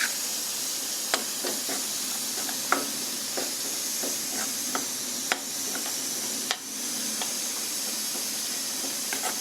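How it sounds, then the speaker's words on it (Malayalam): Blended green tomato puree sautéing in a pan for a Punjabi mutton curry gravy gives a steady, soft sizzle and hiss, with occasional sharp spoon knocks and stirring scrapes. "ഇതും ഇനി ഒന്നിങ്ങനെ വഴറ്റി ആ പച്ചമണം മാറണം."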